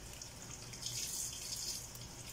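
Tap water runs steadily as leafy vegetables are washed, making a continuous faint hiss and splash with slight swells and no talking.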